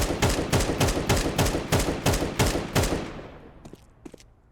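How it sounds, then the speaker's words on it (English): An AK rifle in the video game Counter-Strike 2 fires ten rapid, evenly spaced loud shots. The last report rings off into a fading tail, followed by a couple of faint clicks. "Now let's go back to the same distance that I shot the Glock at and do 10 rounds with the AK."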